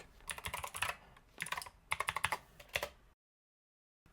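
A password is typed on a computer keyboard in quick bursts of close, crisp key clicks with short pauses between them, ending in sudden silence.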